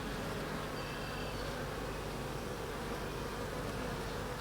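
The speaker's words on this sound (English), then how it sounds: "See some fresh nurse bees on here." Honey bees buzz steadily on a hive frame during an inspection for Varroa mites, a dense, continuous close-up drone with no voices.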